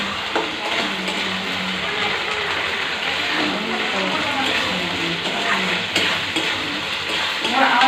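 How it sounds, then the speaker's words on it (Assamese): Spice masala for chicken fries in a pan with a continuous loud sizzle, while a utensil stirs and scrapes against the metal at close range. Faint voices may be present in the background. "এতিয়া মশলাখিনি মই ভালকে ভাজি ললোঁ"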